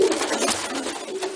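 A domestic pigeon coos close up in a loft, a soft throaty murmur repeated over a second or so and heard with no talking.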